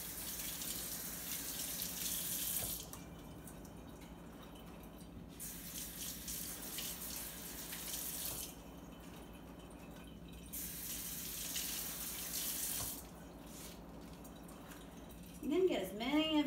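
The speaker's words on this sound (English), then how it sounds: "take 3 kale leaves and wash them in cold water" Cold tap water runs steadily over three kale leaves in a kitchen sink, in bursts of broadband splashing that stop and start, with a short voice at the end.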